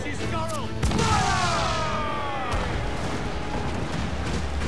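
Ship cannons fire in the pirate video game Assassin's Creed 4 Black Flag, a heavy booming blast with crashing debris and rumbling aftermath, loud and close, while voices shout over the barrage.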